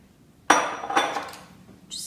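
Wet and dry pancake ingredients, including oat flour, nutmeg and coconut, are mixed in a bowl. A utensil strikes the bowl in two sharp clinks about half a second apart, then rings faintly, with a lighter clink at the end.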